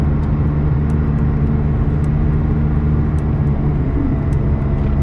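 A McLaren 600LT engine accelerates while overtaking on an open road, heard from inside the car as a loud, steady, continuous roar with no talking.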